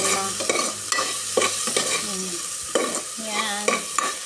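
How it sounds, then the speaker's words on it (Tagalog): Onion and garlic sauté in a hot pan for chicken adobo, a continuous sizzle broken by repeated scraping stirs of a utensil, close and fairly loud, with no talking. "Gisa-gisa lang natin yung ating adobohin."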